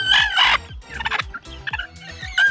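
Chickens cluck and call in a close series of short, busy bursts, one after another with brief gaps, around their coops with a mother hen.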